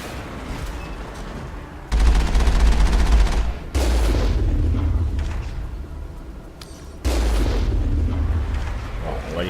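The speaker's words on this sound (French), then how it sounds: "Voyez, on nous tire dessus." Gunfire in the Mass Effect video game: loud bursts of sustained automatic fire and booming shots come in several heavy waves, close and dominating.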